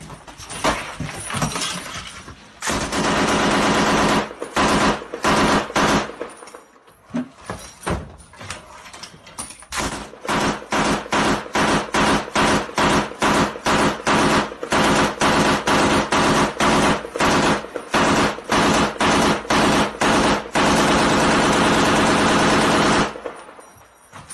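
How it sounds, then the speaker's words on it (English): Machine gun fire on the Zaporizhia front line, long loud sustained bursts of rapid shots with short pauses between volleys, harsh and close, continuing for most of the recording with no voices. "Russian forces fire incendiaries over Zaporizhia front."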